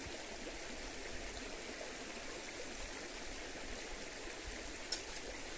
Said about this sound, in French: merci la rivière de m'avoir donné de l'eau, de m'avoir permis de boire ton eau